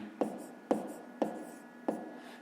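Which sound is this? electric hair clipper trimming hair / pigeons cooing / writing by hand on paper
writing by hand on paper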